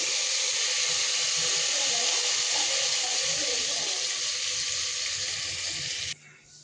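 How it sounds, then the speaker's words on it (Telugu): Water is poured into a pan of cooking tomatoes and vegetables for a healthy home dish, making a steady, loud rushing hiss with light sizzling that runs for about six seconds and then stops abruptly. "టమాటాలు కుకింగ్ కావడానికి కొద్దిగా వాటర్ పోసుకోవాలి ఫ్రెండ్స్."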